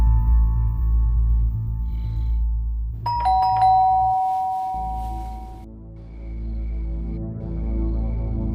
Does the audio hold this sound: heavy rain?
no